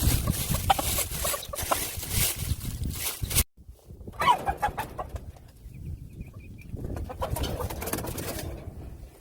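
Chickens in a backyard coop with a rooster cluck and coo in bursts close by, with scratching and rustling around them and a brief silent break partway through.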